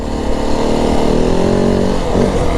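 Yamaha WR450F dirt bike engine running loud and close, a steady buzzing four-stroke drone with slight rise and fall in revs, no talk.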